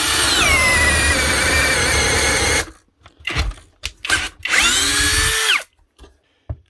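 A Psogpone cordless drill, an Amazon copy of a Makita, runs loudly at high whine while boring with a spade speed bit, then stutters in a series of short bursts as the electronics cut it out, before one more sustained run.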